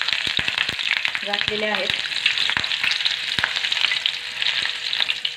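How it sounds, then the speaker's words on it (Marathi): Two or three green chillies fry in hot oil with a dense, continuous crackling sizzle close up, while someone speaks briefly over it. "फक्त माझ्यासाठीच मी ह्या मिरच्या तळून घेतलेल्या आहेत"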